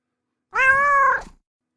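A cat gives a single clear, drawn-out meow, close and loud, rising slightly and then falling away into silence.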